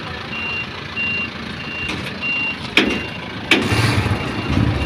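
Truck maneuvering slowly forward, its reversing alarm sounding steady, evenly spaced beeps over a rumbling idling engine, with a couple of sharp clanks and a louder engine surge near the end.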